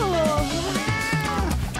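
A cat meows in a long, wavering, insistent cry, close and loud, with drawn-out pitch slides across the whole stretch and no pauses.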